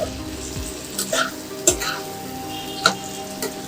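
Mashed banana flower is stir-fried with spices and tomato in a pan, a continuous sizzle punctuated by several sharp spatula knocks and scrapes against the metal.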